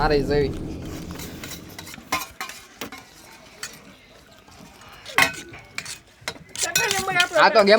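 Dishes and cutlery clink and clatter intermittently as they are handled and washed, with a few brief voices in the background.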